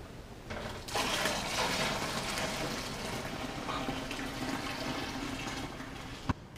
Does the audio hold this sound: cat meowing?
no